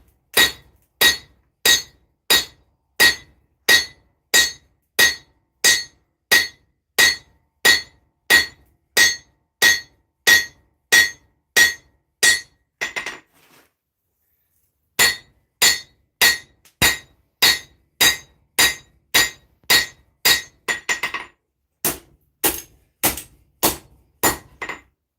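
A hammer strikes a hot metal blade while beveling at the forge, sharp ringing blows in a steady rapid rhythm, close and loud, pausing briefly before resuming.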